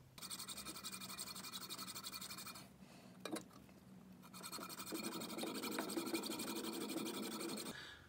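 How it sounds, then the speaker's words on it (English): A hand saw cuts a piece off a cast pure silver golf ball in rapid, steady back-and-forth rasping strokes, close and continuous apart from a short break partway through. "So let's cut this little guy off here and then we'll see how much it weighs."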